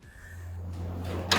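A 1,000mm pantry drawer in a 2025 CUB C16 luxury hybrid caravan opens or closes over a steady low hum, ending in a short, sharp slide-and-bump.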